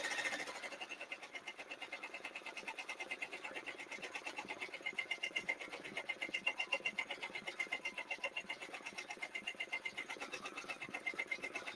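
An embroidery machine stitches a design onto a diaper bag, a fast steady mechanical chatter of needle strokes running continuously at moderate volume throughout, with no talking.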